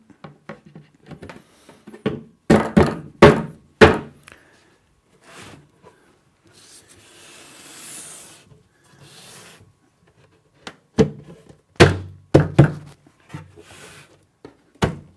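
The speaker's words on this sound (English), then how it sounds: "now I'm going to put my last side panel on" A Cooke & Lewis 500 standard wall unit with lay-on door is assembled as its last side panel is fitted: clusters of close, sharp knocks and clatter, a softer rubbing scrape midway, then another burst of knocks.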